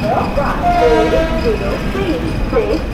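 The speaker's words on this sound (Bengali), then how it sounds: "আমাদের ট্রেন ছেড়ে দিল খড়গপুর জাংশন" A Dhauli Superfast Express train on the Puri–Shalimar route runs on after leaving Kharagpur Junction, giving a steady, loud rolling rumble throughout while someone talks over it.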